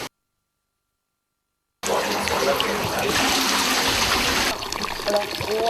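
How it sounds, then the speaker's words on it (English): Water runs through a man-made suranga, a hillside cave tunnel channelling water to reservoirs. After a silent opening, a loud, steady rushing flow with trickling detail begins and continues to the end. "Water from the hills is canalized through the surangas into reservoirs."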